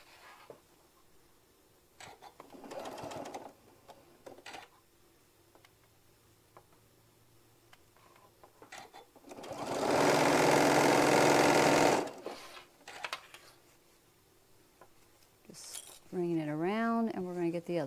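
Sewing machine stitching a nested seam on a quilt block, with one steady two-second run of rapid stitching in the middle, surrounded by faint handling clicks and quiet pauses.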